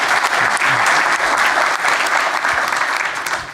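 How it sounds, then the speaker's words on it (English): A large audience applauds at a startup demo day pitch event, dense steady clapping that stays loud and even throughout before tapering slightly at the end. "Let's give Thomas a big applause."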